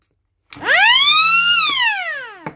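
A rotary air siren spins up quickly to a loud, piercing wail, holds briefly, then winds down in pitch, ending with a short clunk.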